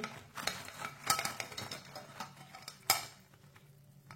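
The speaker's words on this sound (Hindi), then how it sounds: "अब इन्हें प्लेट में डाल लेंगे।" Potato kebabs set onto a plate, light clinks and taps of cutlery against dishware, faint and close, with small scraping touches.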